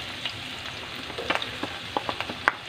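Ginger frying in a pan with light-browned pork, a steady close sizzle with a run of quick scraping stir clicks.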